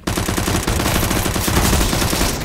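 Rapid automatic gunfire in CS:GO during a competitive match, dense continuous bursts of rifle shots close and loud, with no talking.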